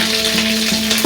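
Chopped garlic hitting a hot pan gives a loud, dense, steady sizzle throughout, with a steady hum beneath it and a sharp rise at the very end.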